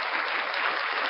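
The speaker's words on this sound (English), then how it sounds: "Round of applause for vilified freedom" Brief, dense round of applause from an audience on a live talk show, steady clapping without pause throughout.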